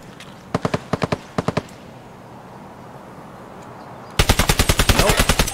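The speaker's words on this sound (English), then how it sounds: "I only heard the gunshots." Video game gunfire crackles in sharp rapid bursts, a few short volleys early, then a quiet stretch, then a louder sustained rattle of rapid shots at the end.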